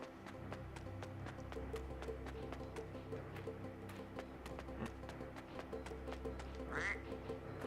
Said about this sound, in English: All I got was the quacking sound.